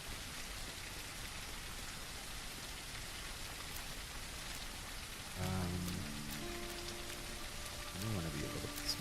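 Steady rain pours down in the survival video game Surroundead, a constant hiss throughout, joined in the later seconds by louder muffled thumps and tonal game sounds.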